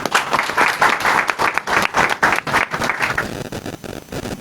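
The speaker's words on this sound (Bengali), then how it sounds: "হাততালি দিই।" An audience at a multimedia reporters' association gathering breaks into loud, sustained applause, dense overlapping claps filling the room for several seconds before thinning toward the end.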